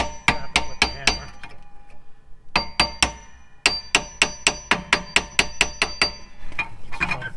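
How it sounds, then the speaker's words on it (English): A hammer strikes a 2006 Toyota Sienna's brake drum housing in quick, sharp metal taps, a burst of four, a pause, then a longer run of evenly spaced blows. "just try to kind of tap it with the hammer"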